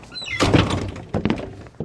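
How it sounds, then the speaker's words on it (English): A door kicked shut as a sound effect in a Gunsmoke radio drama performance gives a loud, heavy thunk, followed by a couple more knocking impacts nearby. "All right, kick the door shut"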